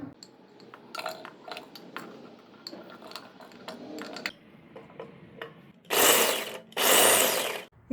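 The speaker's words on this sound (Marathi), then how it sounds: "या तीन हिरव्या मिरच्या आठ दहा लसणाच्या पाकळ्या आणि एक इंच आल्याचे तुकडे आपण चॉपरवर बारीक करून घेऊ" Green chillies, garlic cloves and ginger pieces go into an electric chopper: assorted clicks and taps of handling come first, then two loud, close whirring bursts of the motor, each about a second long.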